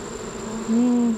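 Honey bees buzz in a dense, steady drone around an open hive during a post-trip inspection, the hum swelling louder midway as bees pass close, with no talking.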